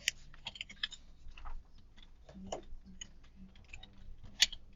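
Scattered, irregular clicks of typing on a computer keyboard, quiet and close, with uneven gaps between keystrokes and no talk.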